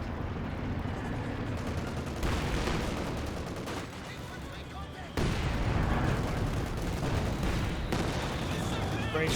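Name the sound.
gunfire in a video game (Company of Heroes)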